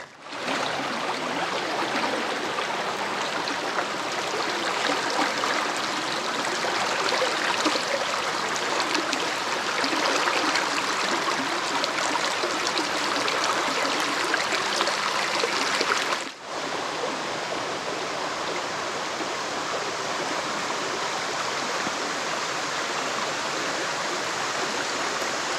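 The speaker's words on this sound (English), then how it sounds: "Wow, this creek is overflowing." An overflowing creek in an old Florida swamp rushes fast and loud, a steady broadband roar of moving water heard up close and alone, with a brief dip partway through before the flow carries on.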